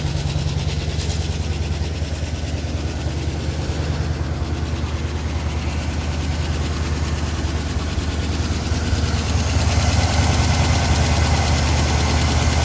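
A 1976 Chevrolet Silverado K10 pickup engine, freshly serviced with new oil and spark plugs, idles steadily and close by with a deep, even rumble and a faint ticking knock, getting slightly louder toward the end.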